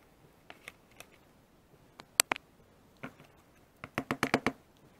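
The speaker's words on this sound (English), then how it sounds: "next I'm going to remove this screw and the other screw right down here" Screws being worked out of a Fat Shark RX-Bay with a small screwdriver: sparse light clicks early, then a quick run of sharp ticks and scrapes near the end, close and fairly quiet.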